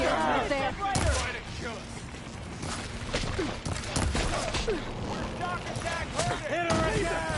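Gunfire and combat impacts in the video game Horizon Forbidden West, with repeated sharp bursts under frequent shouting voices and chaotic battle noise.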